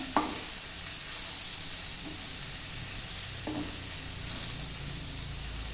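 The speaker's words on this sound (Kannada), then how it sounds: "ಇದಷ್ಟು ಒಂದು ನಿಮಿಷ ಬಾಡಿಸ್ಕೊಳ್ಳಿ ಸಾಕು" Cumin, pepper and sambar powder sauté in a pan for a cluster bean gojju, making a constant close sizzle with a couple of brief scraping stirs.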